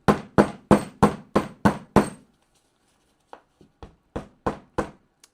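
A hammer pounds a lump of sodium metal flat, seven loud evenly spaced blows followed by a pause and then a series of lighter, quicker taps.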